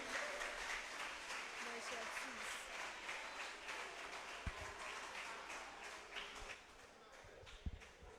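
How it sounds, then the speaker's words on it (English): A crowd at a national quarter-final elimination event claps in a sustained, moderately distant wash, with talk over it and a few sharper thumps and knocks near the end. "Please clap for them"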